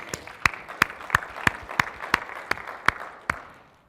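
Scattered, sparse clapping from a few audience members at a Microsoft Build 2015 conference session, about ten distinct separate claps in a slow uneven rhythm, fairly close and otherwise quiet.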